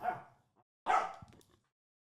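A dog gives two short, faint barks about a second apart, with quiet gaps around them and no speech.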